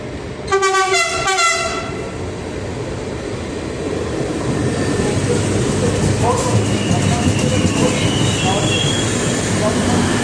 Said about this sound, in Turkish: Hani şu an tren geliyor.